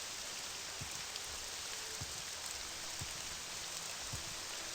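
Steady rain falling in a Skyrim city, a constant dense hiss with soft scattered drop patter, even and moderately quiet throughout with no voices.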